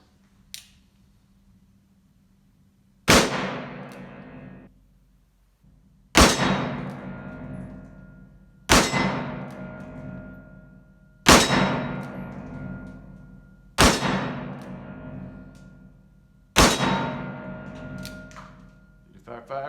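Six sharp gunshots from an antique-finished Uberti Colt SAA .45 revolver firing 250-grain lead cowboy loads, spaced roughly two to three seconds apart, each loud crack ringing out and fading before the next.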